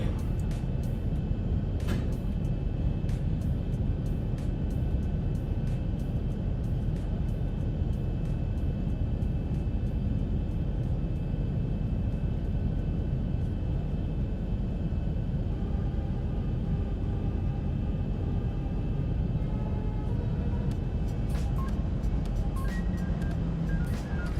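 A Boeing 737-800 airliner, Southwest livery with the Zibo mod, lands in the X-Plane 11 flight simulator, giving a steady, continuous engine roar and rumble that fills the whole stretch, with faint clicks scattered over it and no talking.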